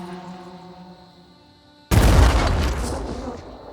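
A grenade detonates in the turn-based tactics game Phoenix Point, a sudden loud, broad blast that cuts in after a quiet stretch of low ambient game music and rumbles on with dense debris noise until the end.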